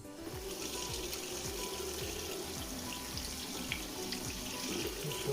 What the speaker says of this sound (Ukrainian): Я їх просто промиваю.